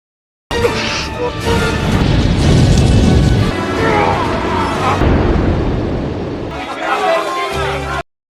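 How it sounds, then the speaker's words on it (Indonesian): A loud, rumbling explosion booms across several seconds, with a heavy low-end roar and crashing debris, fading into a dramatic musical swell. "Ledakan pun terjadi."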